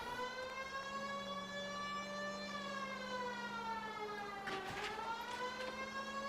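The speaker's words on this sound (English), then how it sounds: "You hear a siren." Emergency siren from the LA Noire video game, a sustained wailing tone with a slow pitch bend, steady and fairly faint, with a brief burst of noise near the end.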